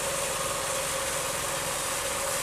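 A boat engine drones steadily at idle-like revs while the boat backs up, a constant vibrating rumble with a knocking edge, heard alone with no talk.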